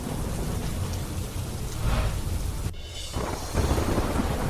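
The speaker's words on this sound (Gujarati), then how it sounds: "ઉપરવાસમાં ધોધમાર વરસાદ બાદ નદી 2 કાંઠે વહેતી થઈ" Heavy rain falls in a dense, continuous roar, with low rumbling underneath and a brief abrupt break partway through.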